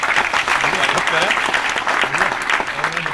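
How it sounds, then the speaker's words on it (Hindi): An audience claps throughout at a live training session, the applause dense and steady while a voice talks faintly underneath. "तालियां बजाकर इसका हम"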